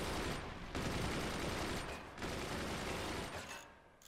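Sustained gunfire from the strategy game Forts comes in dense, rapid bursts. Short pauses split the bursts, and the volume is fairly loud throughout.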